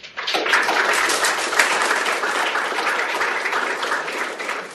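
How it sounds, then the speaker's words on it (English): Audience applause after a talk at an open source IT industry session, a dense sustained burst of clapping from a sizable crowd that starts abruptly and holds steady. "We clap in Townsville and Cairns just keep on clapping."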